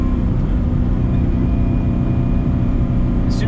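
An LS V8-swapped Mazda RX-7 rumbles loudly on a freeway on-ramp during a downshift, a dense low engine drone heard from inside the car with no talking.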